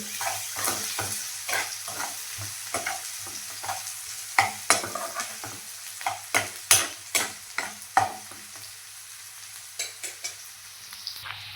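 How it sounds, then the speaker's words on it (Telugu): Onion frying with salt in a pan, stirred with a utensil that gives sharp repeated scraping taps over a soft, continuous sizzle; close and alone, no voices. "ఉల్లిపాయ ఫ్రై అవుతున్నప్పుడు కొంచెం సాల్ట్ వేసుకుంటే త్వరగా ఫ్రై అవుతుందండి"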